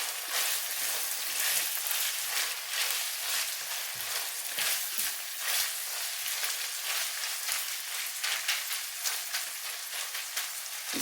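Onions frying in a pot for a potato and green bean stew, a steady dense sizzle with faint scraping from stirring, continuous and close throughout with no talking.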